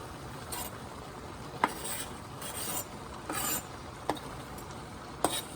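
Sausage stirred into a pot of Cajun potato stew: quiet scraping and stirring, a few sharp clinks of a utensil against the pot, and soft sizzling in the background.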